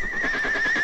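A horse whinnies in a steady, loud, drawn-out neigh that fills the whole short moment, close and unbroken.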